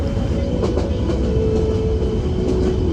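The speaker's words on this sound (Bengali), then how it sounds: "ট্রেন দশ মিনিট লেটে যাত্রা শুরু করলো" Haor Express passenger train leaving Kamalapur station at night, with a loud, steady rumble of wheels on rails and a faint clickety-clack throughout.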